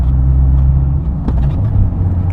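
A Fiat car engine idles through a sports exhaust with a deep, throaty rumble, loud and close, steady throughout with a brief blip partway.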